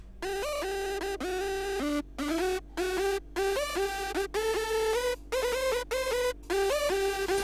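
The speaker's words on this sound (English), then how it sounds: "what you're hearing right now is two leads not working together because they're a little bit off in phasing" Two layered hardstyle synth saw leads play slightly out of phase, giving a clashing, hollow, buzzy tone; a choppy rhythmic riff of short and sustained notes repeats with brief gaps, loud and upfront with no voice.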